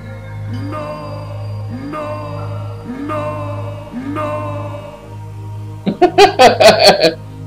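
A Master of Orion II game tone repeats in four even rising pulses as a ship explodes, then a burst of crackling, chattering electronic noise ends it, loud and close.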